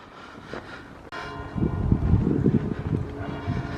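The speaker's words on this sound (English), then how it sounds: "Clock chiming. It's 10 o'clock." A clock bell strikes ten o'clock outdoors beside a canal, its tolls ringing out over a steady low rumble of engine and wind noise, with no voices.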